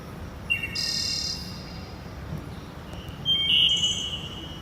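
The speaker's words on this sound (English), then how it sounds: "This is what a bird sounds like." Recorded bird calls played back as an example: a few sharp, high chirps and whistles stand out in short bursts over a soft, steady background hiss.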